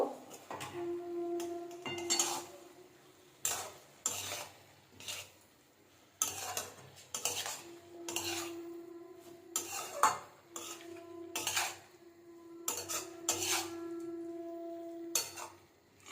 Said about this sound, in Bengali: আবার ভালোভাবে মিশিয়ে নেব